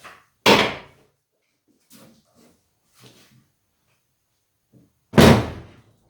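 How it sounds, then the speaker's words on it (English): The door of a 1974 Dodge Monaco under floor and rocker repair is shut twice, giving two loud, sharp slams about five seconds apart, with faint small knocks and rustles in the quiet between them. "Let's see if the door closes."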